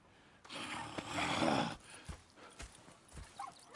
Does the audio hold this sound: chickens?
no